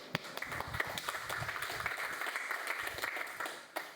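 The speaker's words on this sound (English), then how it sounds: "Please give a round of applause." Conference audience applauding a speaker's introduction, a steady patter of many hands clapping at moderate distance for several seconds, fairly soft overall, with a few sharper claps standing out.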